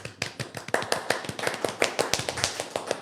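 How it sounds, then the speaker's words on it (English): A small audience claps at a live sports talk show, the sharp individual claps coming in a steady, fairly close burst for several seconds with no talking over them. "Another big clap."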